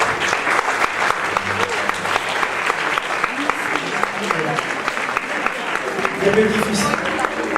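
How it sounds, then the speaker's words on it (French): An audience at a Jewish community commemoration in Corsica claps loudly and continuously, with a voice speaking briefly over the sustained applause. "je voudrais qu'on les applaudisse tellement fort"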